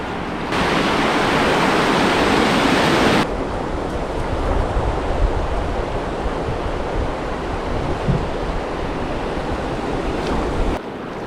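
A waterfall on the Partridge River roars as a continuous, broadband rush of falling water, loud and steady throughout, with slightly stronger spray noise early on.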